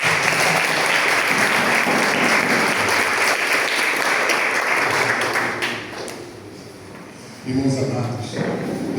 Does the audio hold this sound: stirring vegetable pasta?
no